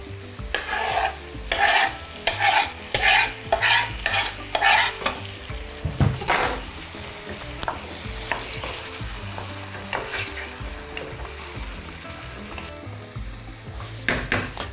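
Vegetables for khavart sizzle in a frying pan, with a run of rhythmic stirring scrapes early on followed by a steady close frying hiss and occasional utensil knocks.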